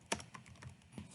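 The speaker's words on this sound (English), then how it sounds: "I'm going to type this word out." Keystrokes on a computer keyboard as a single word is typed out, a handful of sharp clicks in an uneven rhythm, close and fairly quiet, with no talking.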